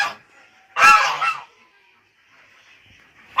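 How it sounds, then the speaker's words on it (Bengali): A goose gives a single loud, close honk lasting about a second, with faint cries before and after in an otherwise quiet outdoor setting. "রাজহাঁস।"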